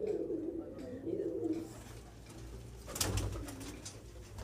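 Madrasi pigeons coo in a loft in Sakurpur, Delhi: low, throaty coos repeat in short rolling phrases, with a brief rustling burst partway through.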